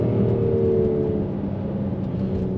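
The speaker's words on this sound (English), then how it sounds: "as you can hear it, the engine is completely programmed different than the coupe was" Mercedes GLC 43 AMG engine pulling under acceleration, a steady low droning hum heard from inside the cabin, smooth and moderately loud with a slight rise early on, no voices.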